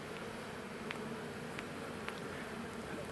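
Honeybees fanning at the entrance of a hive box after a swarm, a dense continuous buzzing hum heard up close with a few brief louder passes of individual bees.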